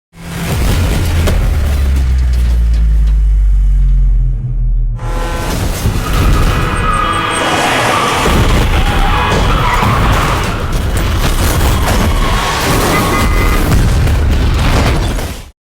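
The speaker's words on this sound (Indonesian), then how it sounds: "dia pun menabrak mobil yang berhenti di depannya, menyebabkan terjadinya kecelakaan beruntun." Tires screech loudly, then a heavy crash and crunching metal follow as several cars pile into each other, with lingering rumble and debris noise.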